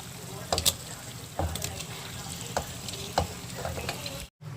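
Chicken pieces sizzle in a pan for a chicken pulao as a utensil stirs them, with regular scraping strokes about once a second over a steady frying crackle that cuts out briefly near the end.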